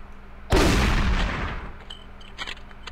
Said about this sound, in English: Let's switch to shotgun.